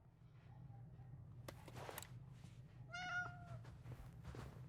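A cat meows in the video game Indiana Jones and the Great Circle: a short faint call, then a louder drawn-out harmonic meow, over a low steady hum with a few clicks and thumps.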